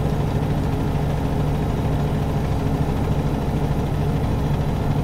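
Western Star 49X truck engine in American Truck Simulator, a steady low droning hum running at an even level throughout, with no talk over it.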